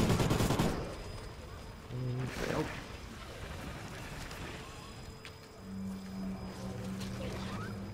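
Faint bursts of explosions and gunfire from bombing runs in Call of Duty: Ghosts Extinction, scattered and quiet beneath a player's voice.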